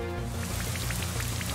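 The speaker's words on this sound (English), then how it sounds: "Rain Dance, alright." Rain from the Rain Dance move in Pokemon Brilliant Diamond, a steady patter of falling drops mixed with the game's tonal background music throughout.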